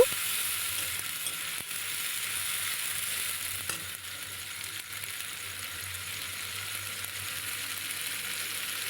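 Spice paste fries in a pan for a soybean curry, giving a steady, close, even sizzle with a hiss that holds across the whole stretch, broken only by a couple of faint clicks and with no voices.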